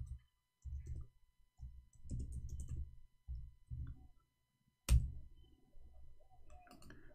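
Someone types on a keyboard in short, quiet bursts of muffled key tapping separated by pauses, with one sharper knock partway through.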